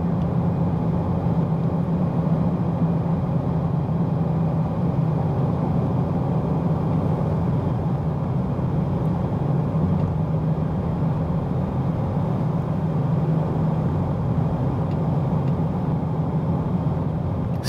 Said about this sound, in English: You definitely hear the engine revving